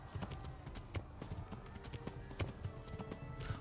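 A horse gallops in the video game Kingdom Come: Deliverance, steady rapid hoofbeats thudding close and continuous, with game sounds around them.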